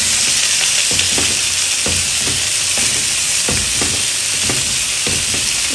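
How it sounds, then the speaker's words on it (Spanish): An egg fries in a pan with a loud, steady sizzle that fills the whole stretch, broken by regular soft scraping knocks from a utensil moving through it roughly once a second. "Este huevo pone ya un ratito para que se cocine bien."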